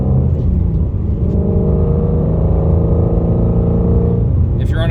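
A 2020 Ford Mustang GT350R engine runs close and loud, a steady deep harmonic rumble held for several seconds with slight swells in pitch.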